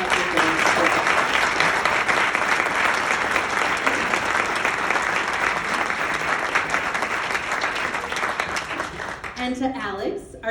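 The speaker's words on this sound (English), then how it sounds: "give a round of applause to the Water Street Inn for opening up their doors" A fundraiser audience at the Water Street Inn in Stillwater, Minnesota, applauds in a long, loud, sustained burst of many hands that thins slightly near the end as a voice begins to speak.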